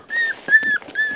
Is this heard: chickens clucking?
no